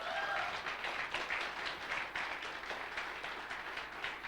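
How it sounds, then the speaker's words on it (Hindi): A crowd applauds performers Yamini and Rahul at an awards event, steady dense clapping filling the hall throughout, fairly distant and even. "सब लोग आप खड़े हो जाइए और जोर से तालियां यामिनी एंड राहुल के लिए।"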